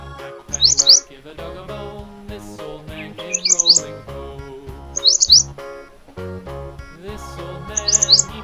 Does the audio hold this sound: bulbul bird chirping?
yes